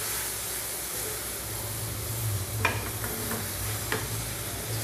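Chow mein with tomato ketchup cooks and is stirred in a pan, a steady close sizzle with soft scrapes and a couple of sharper clicks from the utensil.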